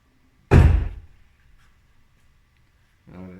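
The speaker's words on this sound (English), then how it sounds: "And then I'm going to close the door a couple times." A single loud, close door slam on a 2003 GMC Sierra pickup, a sharp broadband thud that decays within half a second, followed by quiet and a brief faint sound near the end.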